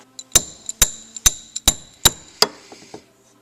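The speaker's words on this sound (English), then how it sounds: "The bolts for the front seats have these little caps on them." Small caps tapped onto the front seat bolt heads of a car being built up from the frame make six sharp, evenly spaced clicks, with a few softer taps trailing after.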